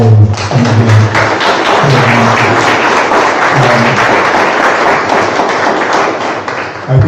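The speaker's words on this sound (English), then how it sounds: "So how about another round of applause for my four" A large audience applauds at a foundation event, a loud, dense, continuous wash of clapping with occasional thumps, sustained for the whole stretch without talk.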